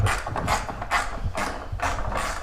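A fastener on a car part is tightened with a ratcheting tool, heard as repeated bursts of mechanical clicking in an uneven rhythm, loud and close with no talking.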